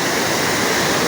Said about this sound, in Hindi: पानी और आबशार की आवाज़ आपको सुनाई दे रही होगी।